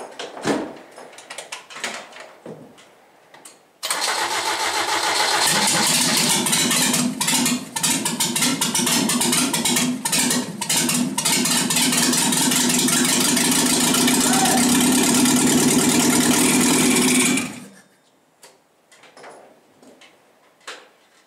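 An engine stored for two years cranks over and catches, then runs at a loud, rough, steady idle with no exhaust fitted for about fourteen seconds before cutting off, with clattering workshop noises before and after.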